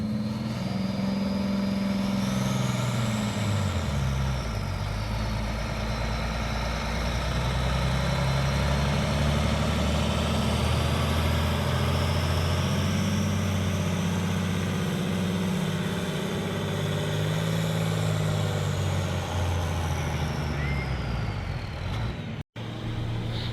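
A loud, heavy pulling-tractor engine roars continuously at a fair tractor pull, its pitch rising and falling as it strains under load, close and without any talking.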